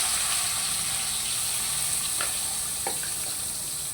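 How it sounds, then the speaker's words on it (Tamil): Loud, steady sizzle of eggplant frying in hot oil, with a few faint crackles and pops scattered through the bubbling hiss. "சரி, இப்போ நாங்கள் கத்தரிக்காய் ஃபஸ்ட்டு போட்டு பொரிக்க எடுப்போம்."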